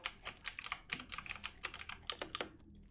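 Rapid, irregular clatter of computer keyboard keys pressed during PC gameplay in the game Death Trials, dense bursts of clicks close and clear, with no voices.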